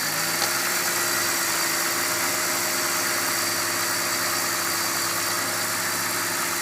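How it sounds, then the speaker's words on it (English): BMW M54 engine held at a steady sustained rev with a clunking rattle, a constant mid-pitched droning hum at moderate level with no voices. "So give it a bit of a sustained rev."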